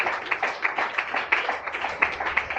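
A church congregation at a Sunday morning service claps in a quick, uneven patter of many hands, sustained at moderate volume without voices.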